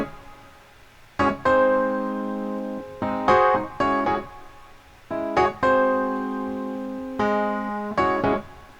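An acoustic piano and a reverb-heavy Rhodes electric keyboard play the same chord progression in unison, layered sustained chords repeating in a steady, slow pattern, full and close.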